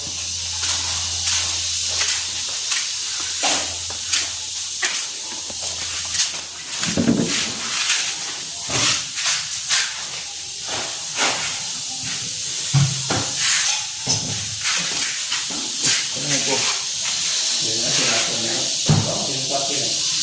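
A spray gun hisses continuously while applying a varnish topcoat over sanded, sealer-coated solid wood, with close steady spraying, occasional knocks and a person talking throughout.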